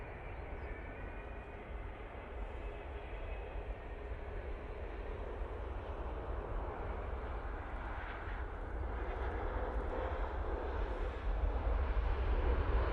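An IndiGo Boeing 787-9 Dreamliner arriving from Delhi at Manchester Airport produces a steady, broad jet roar that slowly swells louder as it approaches, with no voices.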